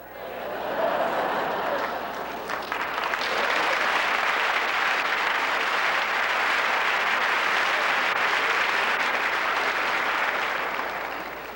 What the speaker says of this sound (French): Par applaudissement, combien de personnes sont capables de taper dans les mains?